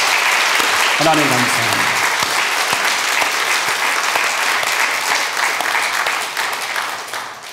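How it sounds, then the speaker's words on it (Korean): Congregation at a Korean church Sunday service breaks into sustained applause that fills the clip, a loud continuous crowd clapping, with a preacher's voice speaking briefly over it near the start. "박수 한번 하죠"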